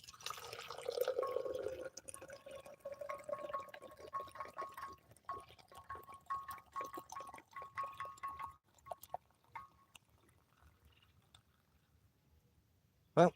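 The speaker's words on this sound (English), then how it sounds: "And pour your cup of coffee." Coffee poured into a cup, a soft liquid trickle in the first few seconds, then faint scattered rustles and a sharp knock at the very end.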